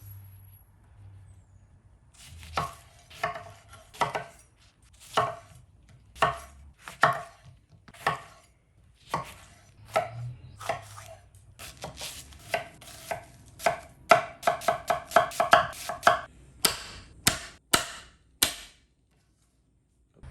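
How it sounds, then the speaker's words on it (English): Knife chopping vegetables and citrus on a cutting board, a long run of sharp, separate chops that start spaced out and speed into quick bursts near the end, close and fairly loud with no talking. "let's go ahead and cut up our vegetables and our citrus"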